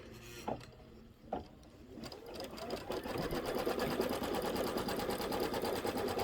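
A home embroidery machine stitches a placement line for a background fabric piece in a holiday quilt block, its steady rapid needle chatter starting after a couple of soft knocks and running on continuously.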